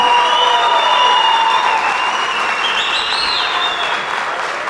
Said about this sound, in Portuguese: Eu gostaria que a igreja recebesse eles com uma grande salva de palmas